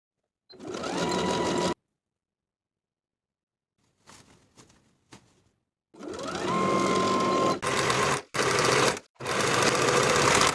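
A sewing machine stitches the waistline seam of pants in a short burst, stops, then runs again in several close, steady bursts separated by brief pauses.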